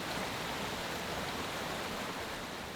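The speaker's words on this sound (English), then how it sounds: "It sounds a little more akin to a very loud brook or stream." Sabbaday Falls, a waterfall sounding like a very loud brook, gives a dense, steady rushing roar that stays constant and close throughout with no talk.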